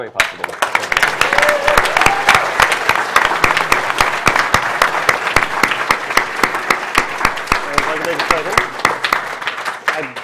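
Audience at the AGDQ 2014 speedrun charity event applauds the builder of the first NES bot, with dense, steady clapping throughout and some voices underneath.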